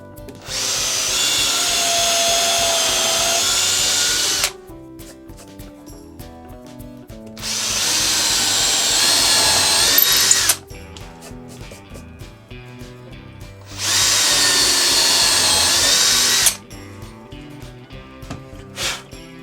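Powerfix Forstner bits from Lidl boring into wood with a power drill, three loud sustained bursts of high whining, each several seconds long, separated by quieter pauses with faint handling noise.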